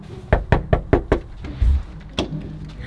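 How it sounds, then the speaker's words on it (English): Five quick, solid knocks on a door in a steady rhythm, a short pause, then one more knock, close by and fairly loud. "Just knock."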